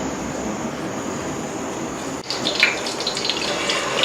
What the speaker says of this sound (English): She's starting by adding the palm oil to the pan.